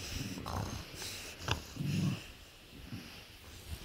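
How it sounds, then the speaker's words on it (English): A dog on a bed makes low, soft grumbling and snorting noises in short irregular bursts, close and quiet, with some rustling between. "And the dog is still making noise."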